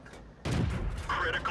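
An M41 Walker Bulldog tank gun fires in World of Tanks, a sudden loud boom breaking in after a quieter stretch and rolling on with rumbling tail and brief game chatter above it.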